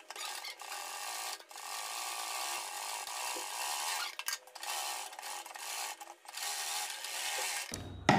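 Steady, close mechanical whir of a sewing machine stitching around a neckline design, running in long continuous stretches broken by brief pauses, with no talking.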